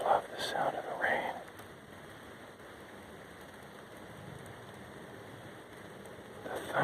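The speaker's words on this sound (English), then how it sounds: "I love the sound of the rain." Rain falling on a trail during a walk in a storm, a gentle continuous patter with brief louder rustles at the start and end, and a soft voice speaking over it early on.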